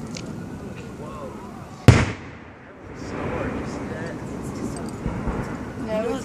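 Fourth of July fireworks, one loud sharp boom partway through followed by rumbling echoes and scattered distant crackles, with people talking nearby throughout.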